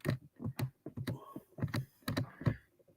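Fingers tap out a burst of keystrokes on a computer keyboard, irregular clicks and clacks at close range, some in quick runs and some spaced, with no one talking.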